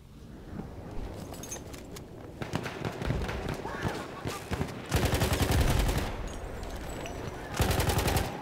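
A Hellriegel submachine gun fires in Battlefield 1 during a World War I multiplayer match, scattered shots giving way to long, loud sustained bursts of rapid automatic fire, up close, with other battlefield gunfire around.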